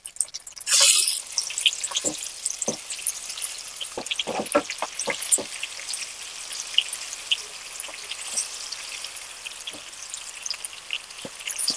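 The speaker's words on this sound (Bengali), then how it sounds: "এবার আমি এর মধ্যে একে একে চিকেনগুলো একটু ভেজে নেব।" Chicken pieces fry in oil with turmeric and Kashmiri chilli powder for a restaurant-style chicken curry, giving a loud crackling burst at first that settles into a steady sizzle with scattered pops and spits.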